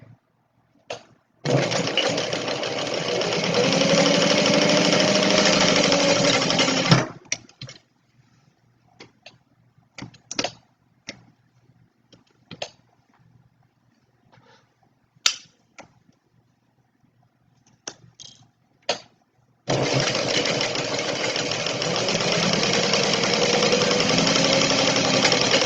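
A sewing machine runs in two long steady bursts while edge stitching a Stella Weekender bag, separated by a stretch of small clicks and handling sounds.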